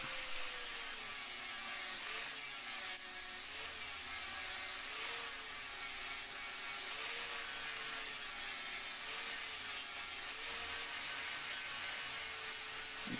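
Angle grinder disc blending a weld flat on metal, a continuous high-pitched whine with a steady grinding hiss, close and fairly constant, with slight pitch dips as pressure changes.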